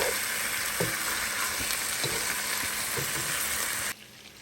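Pork sautés with onion and garlic in a hot pan, crackling and sizzling steadily while a utensil stirs it with soft periodic scrapes. The sound cuts off abruptly just before four seconds.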